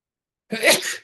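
A single sharp sneeze, loud and close, bursting out after a moment of silence and trailing off quickly.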